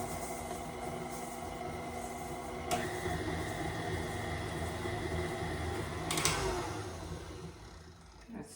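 Electric mixer whirring steadily through sweet potato pound cake batter, a quiet continuous hum with a couple of brief knocks as the beaters touch the bowl.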